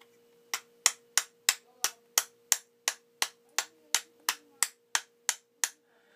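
A steel striker scraped sharply against flint, about fifteen crisp, evenly spaced rasping strikes in a steady rhythm, close and fairly loud in a quiet basement.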